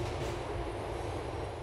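Train rolling past in Grand Theft Auto IV, a steady, loud, continuous rumble with a broad metallic wash held evenly throughout, no voices over it.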